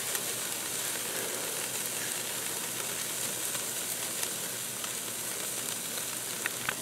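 Brisket sears in a hot pan for barbecue, giving a steady, even crackling sizzle that holds at a moderate level throughout with no talking.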